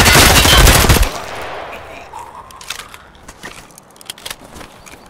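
A loud burst of automatic gunfire from an M4A1 rifle in Escape From Tarkov rattles out for about a second, then gives way to quieter scattered distant shots and clatter.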